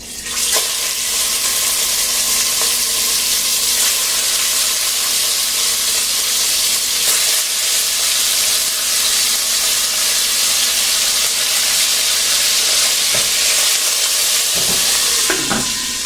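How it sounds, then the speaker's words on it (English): Pork chops searing in a Fagor Cayenne 6-quart pressure cooker, a loud steady sizzle and hiss that runs unbroken from start to finish, with a few faint clinks near the end. "I'm going to go ahead and cook up some pork. These are pork chops."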